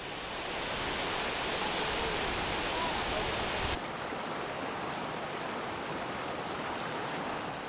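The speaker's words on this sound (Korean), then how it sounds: "큰 폭포를 이룬다." A large waterfall of glacial meltwater pours between volcanoes in spring, a dense, steady roar that fills the scene and drops slightly in level partway through.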